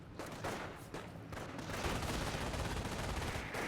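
MG42 machine gun fire in the World War II strategy game Company of Heroes: a sustained rattling burst of rapid shots, loud and dense, mixed with battlefield gunfire and no talking.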